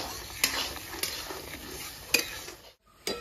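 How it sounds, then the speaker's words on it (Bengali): A spoon stirs ginger, garlic and green chili paste as it fries with onions in oil. Soft sizzling runs underneath several sharp scrapes and clinks against the pan, and no one speaks. "ভালো করে ভাজা ভাজা করে নেবো।"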